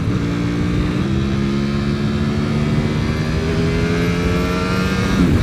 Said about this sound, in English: Listen to that sound. That engine is just so cool sounding.